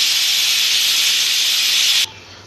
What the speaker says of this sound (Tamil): குக்கர் மூடி போட்டு இப்போ வெயிட் போட்டு 2 விசில் வரணும்.